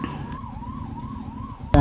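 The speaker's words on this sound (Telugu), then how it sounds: "అంబులెన్స్ వెళ్ళింది" An ambulance siren wails close by in a slow traffic jam on a highway, its warbling tone rising and falling steadily, with a sharp thump at the very end.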